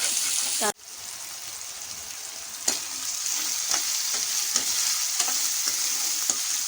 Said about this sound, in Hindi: इसके अंदर चिकन का कीमा जो है वो मैं डाल दूंगी और इसको अच्छी तरह से फ्राई करेंगे